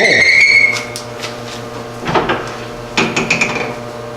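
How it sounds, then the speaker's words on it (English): A drill boring a hole into a wooden tool handle held on a woodturning lathe. A brief whine gives way to intermittent scraping, rattling bursts as the bit bites, fairly close and loud. "And drilling the hole."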